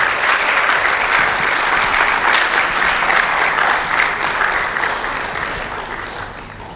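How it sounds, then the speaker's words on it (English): An audience at a medical schools public speaking competition in Ghana gives a sustained, dense round of applause to welcome a board chair, loud and steady throughout and tapering slightly toward the end. "with a rousing welcome, let's applaud"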